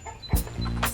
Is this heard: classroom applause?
no